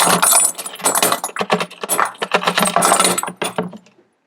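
Dirty range brass casings dumped into a wet tumbler, a dense metallic clattering and jingling cascade of many small impacts lasting a few seconds, then silence.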